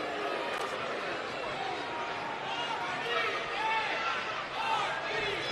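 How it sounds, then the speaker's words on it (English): Arena crowd at a women's wrestling gauntlet match roaring and cheering for Mickie James, a dense steady wash of voices with swells, fairly loud and continuous throughout. "Listen to that crowd."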